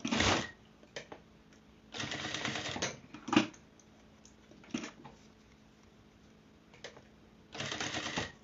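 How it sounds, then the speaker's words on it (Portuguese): A sewing machine stitches a zipper onto a pencil case in short, quiet bursts of rapid whirring, with pauses and small clicks between runs. "E eu vou costurar bem certinho."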